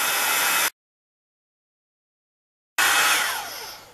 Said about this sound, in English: I'm just going to heat it a little bit with my heat tool so it speeds